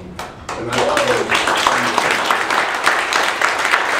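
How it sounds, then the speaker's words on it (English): Audience applause at a candidates forum, a sustained burst of many hands clapping that rises quickly and holds steady and loud, with faint voices underneath. "Let's give all the candidates a round of applause."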